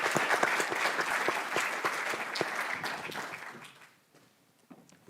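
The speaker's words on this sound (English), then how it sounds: "I'd like you all to please give a round of applause for the panelists." A conference audience in Brussels applauds the panelists, a dense, steady wash of clapping from a sizeable room that holds for about three seconds, then tapers off into a few scattered last claps and near silence.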